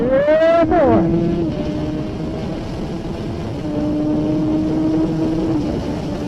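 A Kawasaki ZX14R sport motorcycle engine pulls hard in second gear, a rising whine that drops sharply as the gear changes, then settles into a steady drone, with a voice talking briefly near the start.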